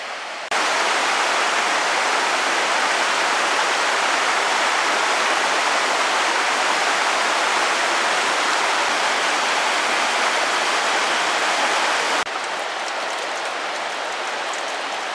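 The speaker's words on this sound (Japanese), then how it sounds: "朝の龍宮滝を見ました。" Ryugu Falls at the source of the Usa River in Yamaguchi rushes in a steady, loud, close roar of falling water that holds unbroken for the whole stretch, with no voices.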